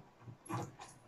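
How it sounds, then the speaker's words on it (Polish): A dog in the LEGO Pirates of the Caribbean game gives a short, faint whimpering bark, two quick soft yelps heard alone. "O, jest piesek."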